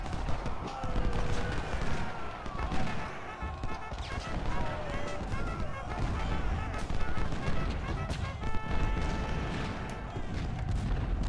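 Artillery and musket fire from a Civil War battle at Brandy Station in Ultimate General: Civil War, heard as steady rolling booms and crackling volleys over a game soundtrack, with someone talking throughout.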